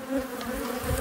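Honey bees from a healthy colony drone around the hive in a steady, close buzz, many wings humming together without pause.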